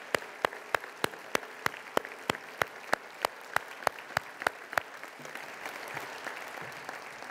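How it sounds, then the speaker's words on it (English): Crisp, evenly spaced claps ring out in a steady beat at a university address, then fade into a softer, more diffuse patter of audience applause toward the end, with no talking. "Let's give them a round of applause."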